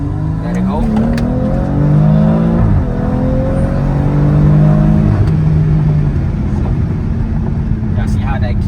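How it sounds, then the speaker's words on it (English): A BMW X3 engine revving against anti-lag launch control, loud and close, its pitch climbing and holding as boost builds, with someone talking over it throughout. "how you use this anti-lag is you hold the button down and then give it gas, and then that's when it starts the anti-lag"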